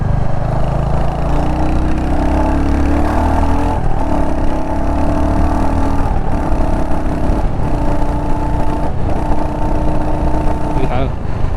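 A Royal Enfield Hunter 350 motorcycle engine running steadily while riding, a loud, continuous mid-pitched drone with slight pitch shifts, heard up close, with someone talking over it.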